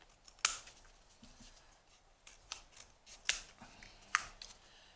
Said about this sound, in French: je coupe jusqu'à temps de recouvrir bien mon petit rond là